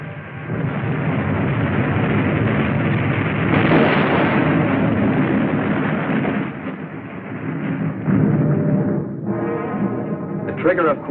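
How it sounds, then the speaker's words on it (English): A submarine depth charge goes off as a long, heavy, muffled roar that swells and rumbles for several seconds before tapering, with a voice breaking in near the end. "The trigger, of course, was subjected to another terrific depth charge."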